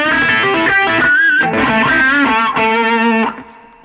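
An electric guitar solo plays through a G2D Standard custom overdrive pedal, loud and saturated, with sustained bent notes and fast runs ringing out before the final note fades.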